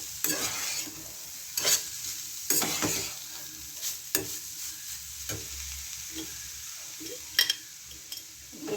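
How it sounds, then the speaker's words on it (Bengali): Vegetable chop filling with spices is stirred in a pan: repeated scraping strokes of a spoon over a quiet background sizzle, with a few sharper knocks, close and moderately loud. "আমি দিয়ে দিচ্ছি ভালো করে নেড়ে নেবো"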